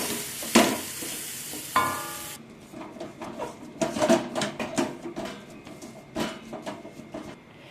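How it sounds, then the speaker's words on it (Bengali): A masher works through a spiced potato and pea tikki filling in a pan, giving soft squelching thuds and scraping strokes at an uneven pace, close and fairly loud. "একটা মেশার দিয়ে এভাবে এটাকে ম্যাশ করে নেব।"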